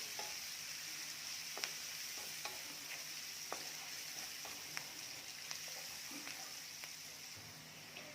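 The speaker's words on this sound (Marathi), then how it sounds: "कांदा आपल्याला खूपही रंग बदलेपर्यंत भाजायचा नाही आहे थोडासा परतून घ्यायचा आहे" Chopped onion being fried and stirred in a pan, a soft continuous sizzle punctuated by light, irregular clicks and scrapes of the spatula, fairly quiet and close.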